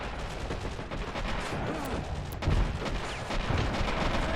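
Japanese artillery and gunfire during a 1945 Iwo Jima battle in the game Men of War: Assault Squad, with dense crackling shots and heavy booms close by, including a louder burst midway.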